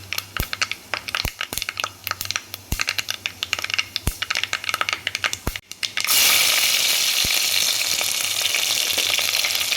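Curry leaves and peeled garlic fry in hot oil for a village chicken rasam: a crackly sizzle broken by sharp pops and rattles, then a sudden loud, dense hiss as more goes into the pan.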